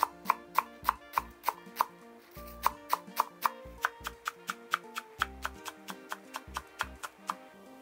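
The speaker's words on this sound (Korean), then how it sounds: "쪽파 반 좀 사용합니다. 끝에를 맞춰갖고요. 잘잘하게 썰어주면 됩니다" Knife finely chopping green onions on a cutting board, a quick regular series of crisp close taps with one short pause partway, no voices.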